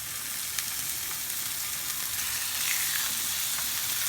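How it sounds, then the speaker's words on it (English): A pork chop sizzles and fries in a hot pan, a loud, dense, continuous crackle heard up close with no voices. "There's going to be quite a big sizzle here, Johnny"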